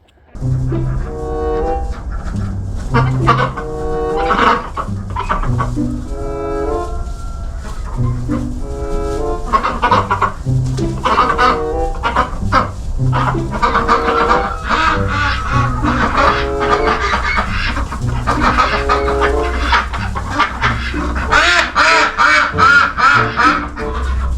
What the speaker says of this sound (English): What are you birds doing outside?